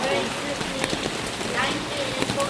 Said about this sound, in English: No, let's wait to the rain stop.